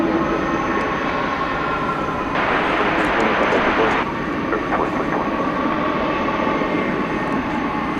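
UPS cargo jets, an Airbus A300 and an MD-11, rumble steadily at DFW airport ahead of takeoff from runway 18 left, a broad distant engine roar with a brief swell in the middle.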